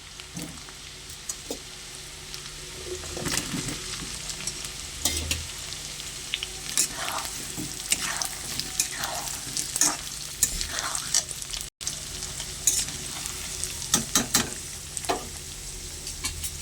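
Cut, washed potatoes go into hot oil over onions already fried reddish, setting off a steady close sizzle with stirring scrapes and clinks from a spoon in the pan, with no voices.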